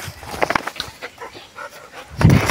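A dog on a farm pants in quick, close breaths, with a louder huff near the end.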